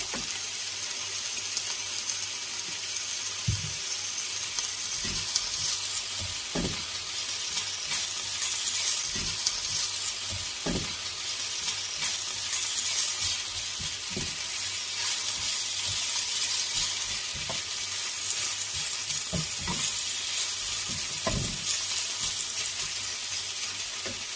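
Olive oil sizzles steadily in a pan for quinoa salad with chicken breast and mushrooms, a continuous close hiss broken by occasional louder pops and clinks, with no talking.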